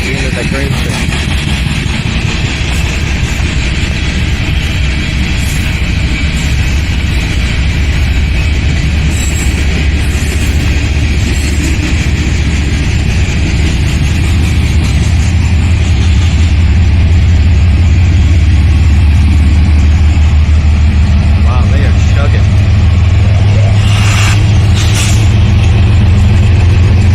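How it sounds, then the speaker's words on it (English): Coal train locomotives pull past with a loud, continuous low engine drone and rumble that deepens and grows heavier toward the end. "Nice shot of the engines pulling by."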